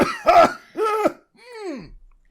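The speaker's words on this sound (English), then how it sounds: "thank you for turning and coughing" Three coughs in a row from someone in a comedy club audience: two rough, close bursts and then a third that is longer, more strained and wheezing, with short gaps between them.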